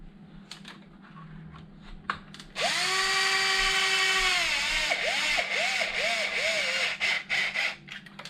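A power drill backs small, short screws out of a Traxxas Wide-Maxx RC truck. A nearby motor whine rises and holds for a couple of seconds, then comes as several quick bursts, with clicks and handling noise around it.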